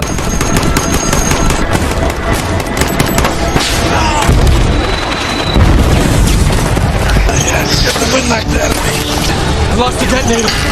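Heavy combat from an alien invasion film, with a C4 bomb blast amid rapid gunfire and booming explosions, loud and dense throughout with deep thuds swelling near the middle.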